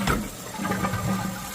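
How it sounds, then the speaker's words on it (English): A household toilet flushing after its fill valve was replaced, a close, continuous rushing of water through the bowl, loud and steady from start to finish. "Let's go ahead and try flushing it one time."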